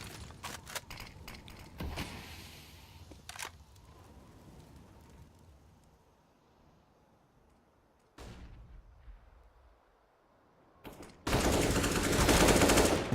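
Counter-Strike match audio with a burst of rapid gunfire and sharp shots early on, including an AWP sniper shot, then a quieter stretch and a loud noisy burst near the end; no talk.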